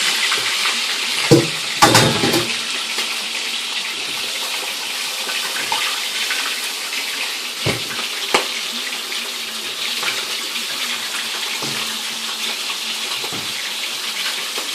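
A kitchen tap runs steadily while a red snapper is washed under it, a close, constant splashing stream with a few brief clunks and handling sounds.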